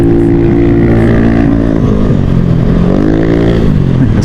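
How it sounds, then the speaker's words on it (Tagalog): A noisy Yamaha Aerox scooter rides close alongside on a city street, its engine a loud, dense drone whose pitch swells and dips as it keeps pace, with no voices over it. "Sabay tayong Aerox na maingay."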